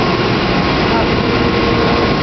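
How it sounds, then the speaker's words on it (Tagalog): Ship's main engine running in a large engine room, a loud, dense, continuous mechanical roar filling the space without letup. "Ito yung main engine namin."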